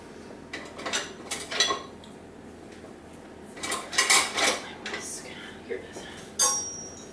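A whisk works ingredients in a bowl for chocolate chip marshmallow cookie dough, giving close, irregular bursts of metallic clinks and scraping against the bowl, with short pauses between strokes.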